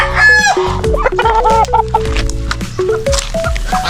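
Pet chickens cluck busily near the microphone while a rooster crows, with overlapping calls and clucks filling the farmyard throughout without any talk.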